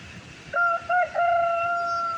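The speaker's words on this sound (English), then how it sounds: "The rooster, that's the young rooster. He never seems to shut up." A young rooster crows once nearby, a short, broken cock-a-doodle-doo with a few stuttering notes and a sustained final call.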